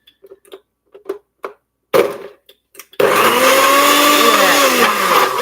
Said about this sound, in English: I'm just going to let this mix, which, you know, a blender like this is so much better than the Vitamix.